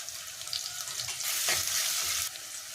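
Onion and garlic hit hot oil with popped mustard seeds for a prawn curry, a close sizzle that swells suddenly loud midway and then settles, with stirring throughout.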